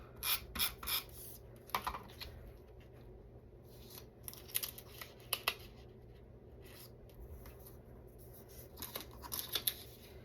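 Scissors cut through scrapbook paper for a calendar page, sounding as quiet, close snips and crisp rustles in irregular bursts, with short pauses between strokes.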